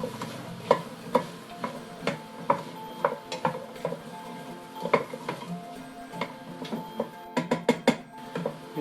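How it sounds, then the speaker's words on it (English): A spoon stirs onion, celery, carrots and garlic softening in a pan, making steady wooden knocks and scrapes about every half second, with a quick burst of rapid taps near the end. "we're just going to stir that around, give us a few minutes for everything to soften up"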